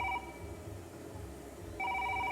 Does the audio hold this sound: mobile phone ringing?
yes